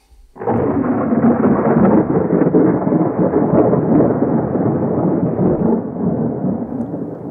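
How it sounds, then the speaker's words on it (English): A thunderstorm lets loose a loud, deep roll of thunder that starts abruptly and rumbles on continuously for several seconds, slowly fading toward the end. "There was a great storm"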